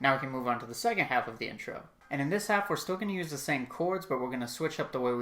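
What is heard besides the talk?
None of the usual background noises is heard.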